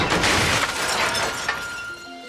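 A log smashes through a car windscreen, giving a loud, sustained burst of shattering glass that tinkles and rings out briefly at the end, with no talking.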